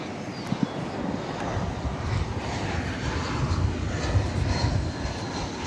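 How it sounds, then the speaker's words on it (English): An American Airlines Airbus A319 arriving at DFW Airport from Kansas City produces a steady, moderately distant engine rumble and roar, with faint wind noise and no voices. "Coming out of the sky from Kansas City is American Flight 1710."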